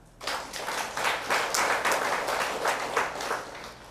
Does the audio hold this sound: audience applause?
yes